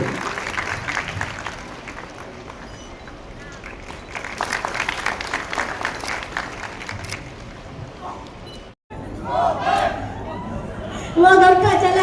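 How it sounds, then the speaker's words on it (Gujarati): Audience applause at a public event in Surat attended by the Deputy CM, loose clapping and crowd chatter mixed with voices over a speaker system, swelling again near the end. "આપણે સૌ તાળીઓના ગણગણાટથી વધાવી દઈએ।"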